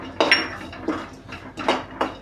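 Spoon scraping and clinking against a pan while stirring dry fruits, cashews, almonds and poppy seeds roasting in ghee, four or five distinct close strokes.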